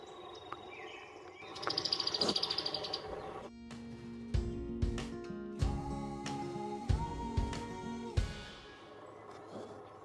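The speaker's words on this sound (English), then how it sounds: "This guy is making all sorts of noise, drumming on this log" A yellow-bellied sapsucker drums on a log outdoors along a trail, a run of sharp irregular knocks sounding fairly close, with bird chirps and calls around it.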